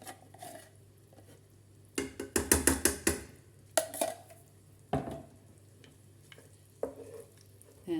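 Tomato paste being stirred into softened onions in a pan on medium heat: intermittent scraping and clinking of a utensil against the pan over a low sizzle, in clustered bursts with quiet gaps.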